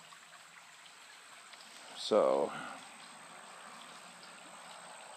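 Creek water flowing steadily outdoors in a mountain setting, a soft, continuous rushing wash heard faintly throughout, briefly covered by a single spoken word midway.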